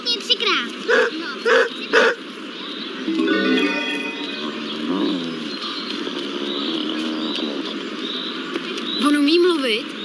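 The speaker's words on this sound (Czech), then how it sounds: "Jonatáne, štěkni 3krát." Jonatán the dog gives three quick, close barks on command, followed by whimpering and yips while people talk.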